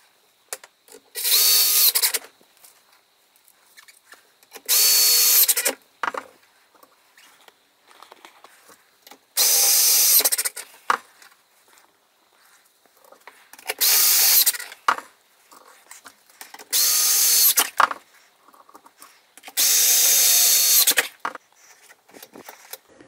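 A power drill drives PVC window screws into the faceplate of an espagnolette lock on a uPVC window, whirring in six separate bursts of about one to two seconds each, with near silence between them.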